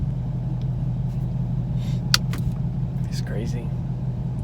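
Low engine rumble steadily fills the cabin of a 2017 Ford Mustang GT Premium, heard from inside the car, with people talking excitedly over it and a sharp brief tick partway through.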